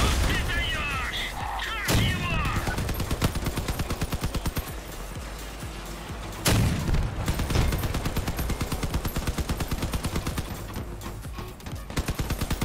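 Rapid bursts of gunfire and heavy cannon shots ring out in a vehicle combat video game. Dense, rhythmic fire runs throughout, punctuated by two loud blasts.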